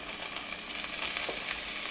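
Potato and cheese empanadas frying in hot oil give a soft, steady sizzle with faint crackles, heard close and alone at low volume.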